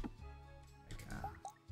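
Water drips faintly in the Moonstone Island video game, a few soft wet plops and small splashes over a quiet low background.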